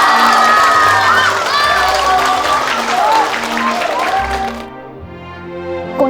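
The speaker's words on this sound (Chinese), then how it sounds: "大家鼓掌。" A crowd applauds loudly in a busy mix of clapping, cheering and shouting voices, including children's calls, then the applause drops away abruptly near the end, leaving quieter background murmur.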